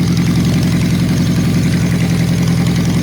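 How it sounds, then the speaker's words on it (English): Honda CB750 motorcycle engine running at idle after restoration work, a steady, even low rumble heard close up without pauses or voices. "I don't know if you can hear the engine, but it's really quiet."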